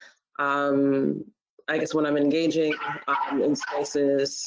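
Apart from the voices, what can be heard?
dog barking in the background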